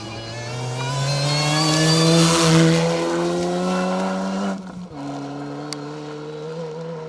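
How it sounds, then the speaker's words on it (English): Ford Sierra Cosworth rally car, noticeably rattly, blasting through a forest stage at the Trackrod Rally Yorkshire: loud rising engine note with harmonics, passing close, then a sharp lift-off and fading exhaust burble. "A very rattly sounding Sierra Cosworth of Glyn Lyons and Joseph Patterson"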